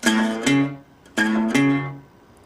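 A country blues guitar plucks a bass note on the 5th string, then moves to the 4th string, played twice in a slow repeating pair of ringing plucks, close and unaccompanied, part of a song lesson.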